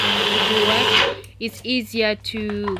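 Roasted peanuts being ground in a blender, a loud, steady grinding whir that runs for about a second before cutting off, after which someone talks.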